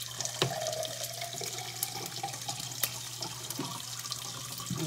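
Water poured into a pan of onions cooking over the flame, a steady running trickle with small splashes and drips, fairly soft and heard alone without talk.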